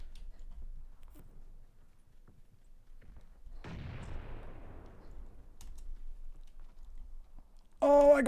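A grenade blast in the battle royale game PUBG erupts partway through as one sudden burst with a decaying rumble and rattling debris tail, set against quiet ambience.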